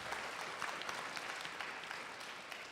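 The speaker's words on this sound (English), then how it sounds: "So let's give him a wonderful round of applause" A Hindu community audience at a Bhaagvat Katha gives a steady round of applause, dense even clapping heard from a moderate distance and fairly quiet, holding without a break.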